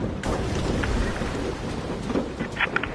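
Steady, dense rain and a low, rolling thunder rumble fill a stormy sea scene in the VR game A Fisherman's Tale, with a few sharper drips and splashes over the constant wash.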